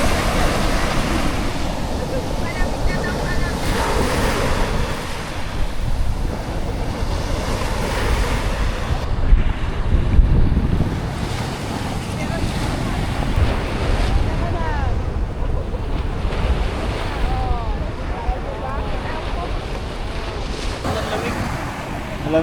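Ocean waves wash and surge continuously at sea while strong wind buffets the microphone, a loud, steady roar with swells rising and falling for over twenty seconds.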